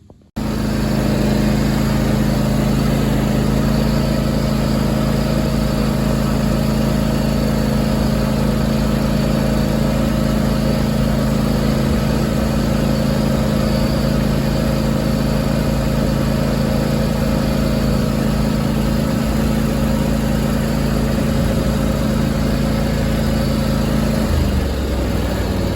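A riding finish mower's engine runs at a steady, loud idle-like drone while being driven across to the lawn, holding constant before cutting off near the end.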